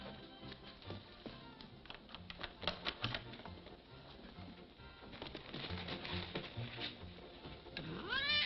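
A house cat in an old colour film gives a short, rising meow near the end, heard over busy clattering taps and background music.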